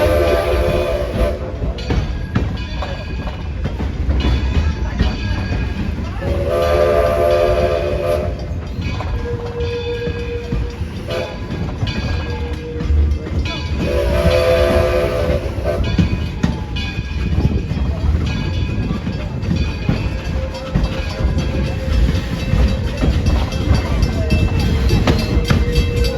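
A locomotive rumbles steadily past at close range with wheels on rails, and several horn blasts ring out over the running noise, with brief speech.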